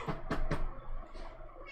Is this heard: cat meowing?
yes